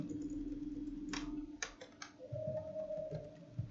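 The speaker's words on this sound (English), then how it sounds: "So I just type here" Keys tapped on a computer keyboard while entering R plotting code, a few quiet clustered clicks over a low steady hum, no voices.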